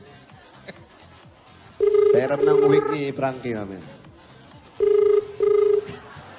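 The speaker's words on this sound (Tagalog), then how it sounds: "Pakisagot lang po mga Dabarkads sa mga telepono nyo." A landline telephone rings in a studio setting on a live noontime variety show, two bursts of steady ringing separated by a pause, loud and close, with people talking over the first ring.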